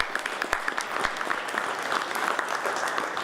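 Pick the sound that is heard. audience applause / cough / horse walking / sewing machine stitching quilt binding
audience applause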